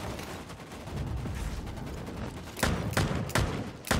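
Gunshots in Bloodhunt team deathmatch gameplay: a few sharp, loud close-range shots in the last second and a half, after a murmur of softer distant fire and game ambience.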